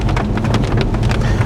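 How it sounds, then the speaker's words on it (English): Heavy rain pours steadily onto a car during a drive, a dense close drumming that fills the whole moment with no voices. "But also because It's it's raining."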